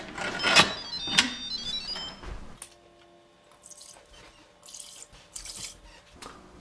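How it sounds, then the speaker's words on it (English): Water splashes and trickles into the metal inner pot of an Instant Pot DUO Plus pressure cooker for a couple of seconds, followed by quieter drips and faint clinks in a calm room. "The first step is to add 3 cups of water into the inner pot."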